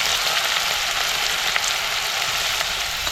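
Onion frying in hot oil in a kadhai, a dense, steady sizzle close up, loud and even throughout with no talking.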